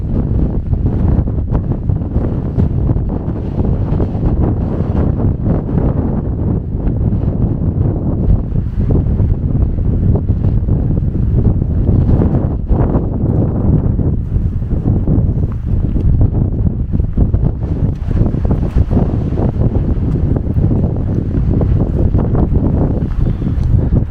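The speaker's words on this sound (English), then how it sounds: "there's this really icy northerly wind just barreling down" An icy northerly wind blows at a winter wild campsite, buffeting the microphone with a loud, continuous, gusting roar that never lets up.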